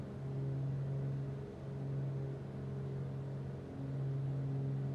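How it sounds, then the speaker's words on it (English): Twin piston engines of a Beechcraft Duke B60 in Microsoft Flight Simulator run with a steady, droning low hum that swells and dips slightly, heard continuously without talking. "you can see now that the engines are working again"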